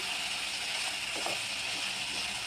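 Vegetables for pav bhaji fry in a spiced tempering, a steady, dense sizzle that stays even and close with no talking.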